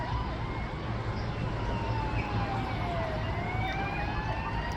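An ambulance siren wails in a street in Jericho, its rising and falling tones sweeping repeatedly over steady traffic rumble, moderately distant and continuous throughout.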